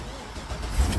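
A rusty work truck carrying a salt sander cranks and starts after a fuel pump repair, a brief, faint rumbling engine that swells slightly as it catches.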